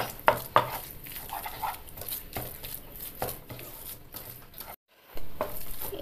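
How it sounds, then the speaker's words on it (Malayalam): A spoon stirs a sweet coconut laddu mixture in a pan, with soft scraping and a few sharp knocks against the metal. The sounds are faint and close, with a brief pause near the end. "നമുക്ക് കുറച്ച് സമയം കൂടെ ഇങ്ങനെ ഇളക്കിക്കൊണ്ട് ഇരിക്കാം"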